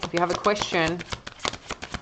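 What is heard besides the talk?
tarot cards being drawn from a deck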